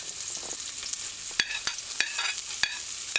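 Diced onions sauteing in coconut oil in a pan, a steady broad sizzle with several sharp stirring scrapes and clicks at irregular intervals, close and fairly loud, no talk.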